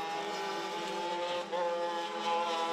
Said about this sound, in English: Oh, noisy exhaust.